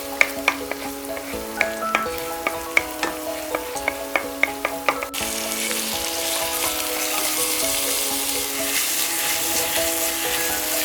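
Finely chopped garlic and onions fry in a pan for aloo paratha, spatula taps clicking at first, then a loud, continuous sizzle as the onions go in, close and steady.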